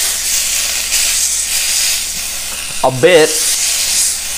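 A steak sizzles and hisses steadily in a hot pan, a broad bright crackle that runs throughout, with a brief spoken remark near the end.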